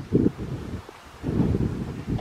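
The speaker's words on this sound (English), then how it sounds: "Very windy." Strong wind buffets the microphone in low, rumbling gusts that surge and fade, with a brief lull in the middle.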